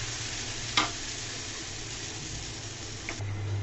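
A spoonful of batter sizzles in a lightly oiled nonstick pan: a soft, even frying hiss runs throughout, with a sharp clack as the spoon taps the pan and a fainter knock near the end.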